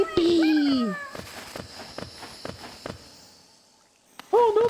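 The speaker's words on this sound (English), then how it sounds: "That is your cat." A pet cat meows loudly at the start with a long falling cry and a couple of shorter calls, then fainter rhythmic tapping, and a final rising meow near the end, all without talk.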